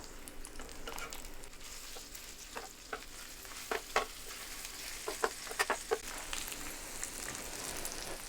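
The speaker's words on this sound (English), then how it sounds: "Now I'm going to go ahead and flip these bacon." Bacon frying on a Drew Barrymore Beautiful electric griddle, a steady close sizzle and crackle with scattered sharp pops and spatters, no voices.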